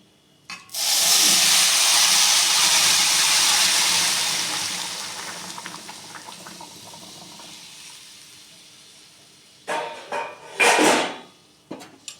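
Hot water poured from a vessel into a cooking pot of rice for pulao, a loud steady rushing pour that tapers off over several seconds, followed by a few brief clatters of utensils.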